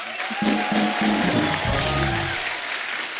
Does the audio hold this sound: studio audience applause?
yes